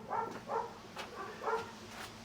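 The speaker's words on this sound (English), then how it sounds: "Don't mind the dogs." Dogs barking in a house during a home brewing day, a series of about five short barks and yips spaced roughly half a second apart, moderately near and not very loud, with no talking.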